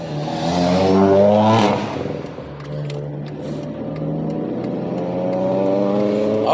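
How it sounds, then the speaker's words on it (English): A tuned-up Honda car revs hard as it passes close by, the engine note rising loudly then easing into a steady drone as it moves on. "Some souped up Honda or some tuned up Honda just passed."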